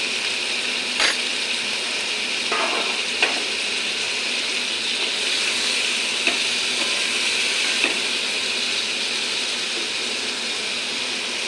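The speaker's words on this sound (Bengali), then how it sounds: "সবজির সঙ্গে মশলাটা মিশে নিয়ে" Ridge gourd and spice paste frying in a pan produce a loud, steady sizzle throughout, punctuated by occasional scrapes and light taps of the stirring spoon.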